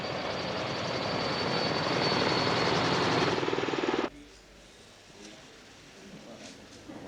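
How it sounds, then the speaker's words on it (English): French military aircraft in an Independence Day flypast at Djibouti, a loud sustained engine roar with a rotor-like beat that cuts off abruptly, leaving faint background noise. "On Independence Day, a flypast of French aircraft"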